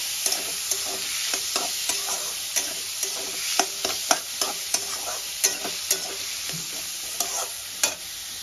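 Onion and tomato with salt and turmeric frying in a pan, a steady bright sizzle under repeated sharp scrapes and taps of a spatula stirring, close and alone.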